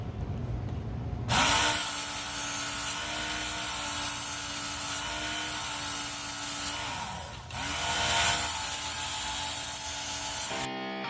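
A WorkSharp electric knife sharpener grinds a dull knife blade, a steady abrasive whirring hum that starts abruptly, dips briefly partway through, then resumes before cutting off, loud and close with no talking.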